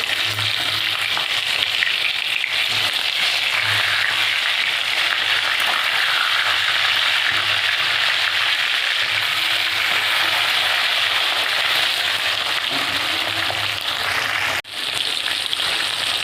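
Chela fish fry lightly in hot oil in a pan, a steady close sizzle and crackle running the whole time with only faint background sounds and no talk.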